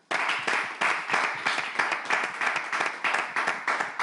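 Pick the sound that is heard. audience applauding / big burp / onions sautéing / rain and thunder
audience applauding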